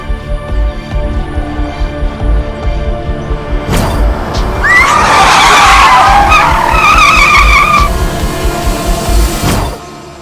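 A car skids with a long, loud tire squeal that rises over a rumbling engine, lasting several seconds before a sharp stop near the end, with no talk over it.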